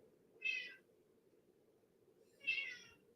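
A cat meows twice, the two short cries about two seconds apart, quiet and close against a low background hum.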